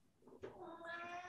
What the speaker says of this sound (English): Your cat's answering that question.